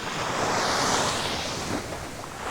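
Steady surf of sea waves washing onto a Kefalonia beach of golden sand and turquoise water, a continuous close rush with mild wind noise and no voices.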